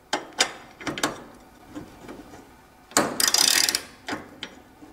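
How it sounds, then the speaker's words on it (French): Socket wrench loosening the transport bolts on a washing machine, rapid ratcheting clicks in short bursts with pauses, close and clear, one louder rattling run near the middle, no speech. "Commençons par retirer les vis de bridage avec la clé à douille."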